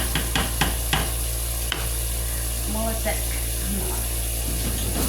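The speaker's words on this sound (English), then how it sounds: "Let's give this another stir." A spoon stirs ground beef stroganoff in a single pan, with a few sharp scrapes and knocks at the start, then a steady sizzle over a constant electrical hum.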